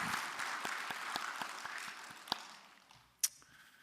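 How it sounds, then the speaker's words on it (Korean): Church congregation applause during a Sunday worship service, scattered clapping that thins and fades over a few seconds, ending with a couple of sharper isolated claps. "우리 힘내시라고 박수 한번 하시겠습니다."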